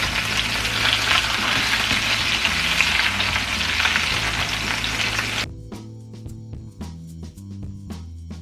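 Honey garlic salmon fries loudly in a pan just after being flipped, a dense close sizzle that cuts off abruptly partway through, leaving faint sparse clicks and quiet pan sounds.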